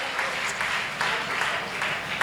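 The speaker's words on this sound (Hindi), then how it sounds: "एक साथ तालियों का उद्घोष करिएगा" Congregation clapping together at a Sharad Purnima religious gathering as donors are announced, an even rattle of many hands that holds steady for a couple of seconds at fairly close range.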